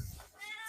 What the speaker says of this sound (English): he's also meowing at me